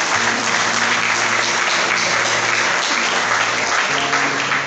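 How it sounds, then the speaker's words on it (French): A French-speaking church audience breaks into loud, dense applause, a continuous roar of many hands clapping with a hum of crowd voices underneath, sustained throughout. "Applaudissez pour vous-même."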